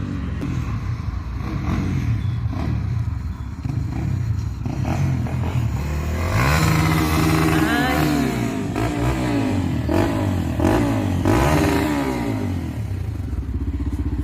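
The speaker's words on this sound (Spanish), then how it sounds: "comienza a acelerar la moto, pero fuertísimo, con todo, para que yo escuche que él está abajo" A motorcycle engine idles with a rough, close clatter, then revs hard in repeated rising and falling surges that grow louder, with little else audible.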